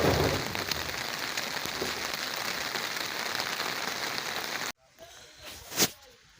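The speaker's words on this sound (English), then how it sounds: "The rain is really disturbing." Heavy rain pours steadily at a concrete gutter construction site, a dense loud hiss that cuts off abruptly near the end, leaving quieter dripping and a brief splash.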